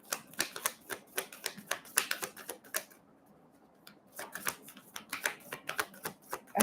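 Cards from a Moonology oracle deck are shuffled in quick, dry riffling bursts, close and crisp, with a short quiet pause in the middle before the shuffling resumes; no one speaks.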